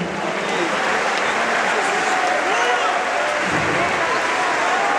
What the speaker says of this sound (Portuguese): A igreja pode aplaudir esse ato também.